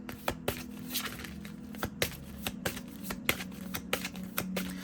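Oracle cards being shuffled to draw one, a series of sharp, evenly spaced clicks and light papery taps over a low steady hum, fairly quiet and close, with no speech.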